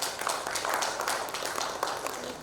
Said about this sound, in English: can we have a huge round of applause for yourself? A big round of applause.